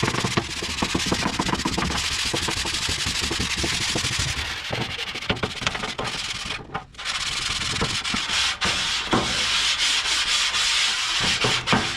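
A metal scraper grinds steadily across a rusty Blackstone griddle, stripping rust and seasoning from the flat steel cooktop in continuous close, rough strokes with a brief pause partway through.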